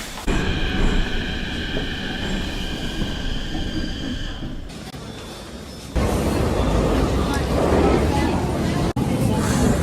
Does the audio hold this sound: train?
yes